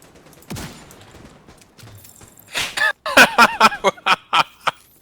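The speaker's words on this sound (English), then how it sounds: "I hear explosions." Gunfire and explosions ring out in the shooter game The Division 2, with a series of sharp, loud bursts arriving in quick succession near the end after a quieter stretch of scattered noise.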